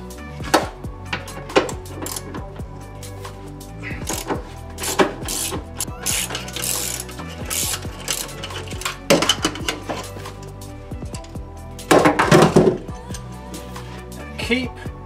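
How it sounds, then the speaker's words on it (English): A 17mm socket wrench ratchets in quick clicking bursts while bolts are removed from the seats of an Audi 2.7 Bi-Turbo, with metallic clinks and knocks scattered between strokes, close and fairly loud. "You need 17mm socket."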